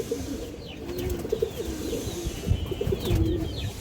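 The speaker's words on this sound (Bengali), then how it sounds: "গররা মাদি কবুতর আছে, একবারে পুরনো লাইনের একটা গররা মাদি কবুতর" A female Gorra pigeon of an old pure line coos in a low, steady rolling murmur close by, with faint higher chirps from other birds in the loft behind it.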